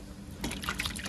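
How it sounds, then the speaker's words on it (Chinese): Shredded jellyfish and jellyfish heads get a quick rinse under water, a brief close splash and trickle lasting about a second, with no talk. "这是海蜇丝跟海蜇头，咱们掺一份，先过水一下啊"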